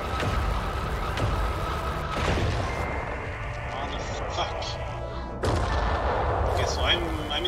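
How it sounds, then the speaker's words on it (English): A superlaser fires in the space video game Worbital with heavy booming blasts and thuds, the bursts changing abruptly, while a voice talks over the game. "I have a laser ready for you in 3, 2, 1, firing."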